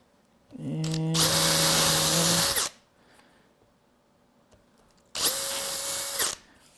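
A power drill bores through polycarbonate in two loud, close bursts: the first spins up with a rising whine and runs about two seconds, then after a quiet pause a second shorter burst follows, with no talking.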